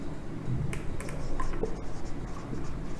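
Pen scratching steadily across paper as notes are written in a quiet classroom setting, a soft continuous scribble with small taps, close and low in level with no talking.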